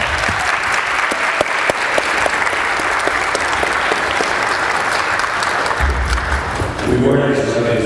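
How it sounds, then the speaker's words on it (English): Audience applause fills a room at a Gordon Parks remembrance event, steady dense clapping throughout, tapering near the end as a voice and shuffling come in. "Let's give them a round of applause."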